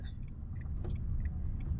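A car engine rumbles steadily as the vehicle slows after a downshift from fifth to fourth gear with the left indicator on, a low continuous drone close by with a faint jingle, no talk.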